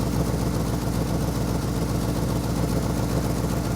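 A worn Ford F100 truck engine runs at a steady idle, a loud, constant low rumble with a rough mechanical texture and no voices.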